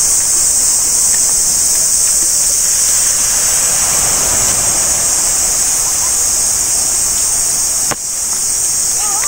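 Sea waves at Tung Fuk beach on Lantau Island, a steady loud wash of surf and wind roar filling the scene, with a faint voice briefly audible.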